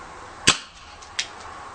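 Two sharp snapping shots from a G&G G731 airsoft revolver, the first louder and the second about three quarters of a second later, each a crisp close crack with a short tail.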